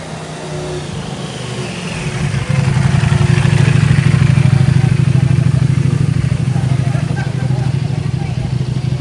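Several Ducati motorcycles roll in on a group ride, a steady low engine rumble swelling after a couple of seconds and holding loud, with people talking over it.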